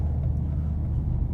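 Mercedes-AMG CLA 45 S engine and exhaust droning steadily as a low, constant rumble heard from inside the car.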